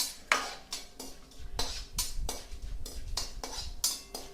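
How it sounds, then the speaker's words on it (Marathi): Nagkesar spice being fried in oil in a pan, heard as a series of metallic scrapes and clinks of a utensil against the pan over a low sizzle, close-up with no voices. "आपण इथे आता हे नाकेश्वर तळून घेणार आहोत,"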